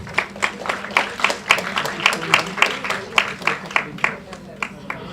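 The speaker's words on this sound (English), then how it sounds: "Let's welcome our finalists with a big round of applause." An audience at an intercollegiate TB quiz claps to welcome the finalists, a dense, steady round of applause with rhythmic hand claps close by, sustained for several seconds.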